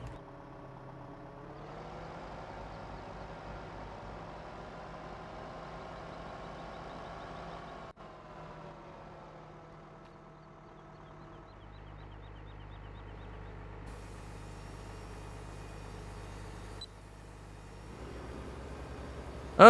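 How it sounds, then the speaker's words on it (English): A tractor engine from the Farming Simulator 15 video game runs steadily at a low, constant drone, its pitch shifting slightly as it moves, with a brief change partway through and no talk over it. "let me move the tractor here a moment"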